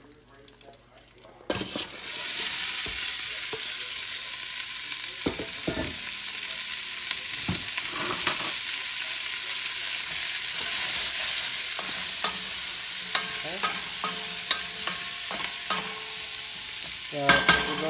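Vegetables hit an oiled pan and break into a loud, sustained sizzle with scraping stirs and occasional utensil knocks. The frying stays close and continuous, and no one speaks.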